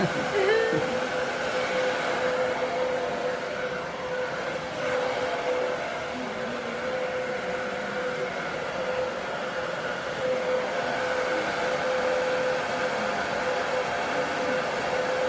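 An Elchin hair dryer blows in a constant airy roar throughout, fairly close, with some faint voices and small clatters underneath.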